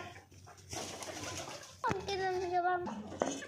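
Pigeons coo in low, repeated warbling calls close by, with scattered background clatter and brief rustling around them.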